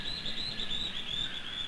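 A run of high-pitched antbird calls near an army ant swarm repeats steadily against a background drone of insects, the notes evenly spaced and moderately loud.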